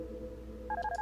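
An electronic phone rings in the video game Darkness Within. A low tone hums first, then a quick warbling ring of alternating beeps starts up, fairly faint and with no talk.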